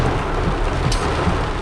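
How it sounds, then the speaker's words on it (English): Heavy rain pours steadily during a tropical storm in Negril, Jamaica, a dense continuous wash of drops with a low rumble beneath, loud and close throughout with no voices. "Rain."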